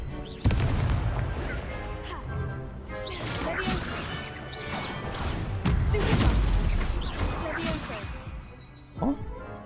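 Fire-spell explosions in the Hogwarts Legacy video game crash and boom in a dense, busy combat mix, with repeated loud impacts, whooshes and thuds over roughly ten seconds and a sharp hit near the end.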